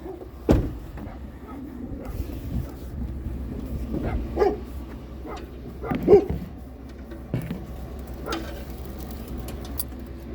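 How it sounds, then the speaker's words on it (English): Dogs barking at a house, a few scattered barks and yips at varying distances over low background rumble, some close and some farther off. "We can get out of here so their dogs will shut up."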